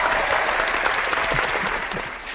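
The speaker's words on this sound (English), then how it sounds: "Damien's getting annoyed with the applause." Sustained applause from a live audience at a talk-show hangout, dense and steady throughout, with a faint voice briefly underneath.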